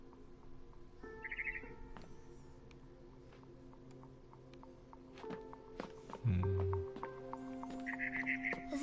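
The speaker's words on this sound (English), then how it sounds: "Then I heard chirping outside my window. It was a barn swallow going back to her nest." Barn swallow chirping in a video game, short bright twittering bursts near the start and end over quiet ambient tones, with soft footstep-like sounds and a low game effect in between.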